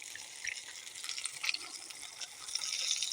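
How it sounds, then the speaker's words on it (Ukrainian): Steady soft sizzling and crackling of syrniki (cottage cheese pancakes) frying in a hot pan, close up, with no voices. "З двох сторін смажимо сирнички дуже швидко смажаться"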